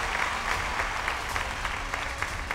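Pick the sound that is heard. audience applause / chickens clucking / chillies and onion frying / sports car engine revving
audience applause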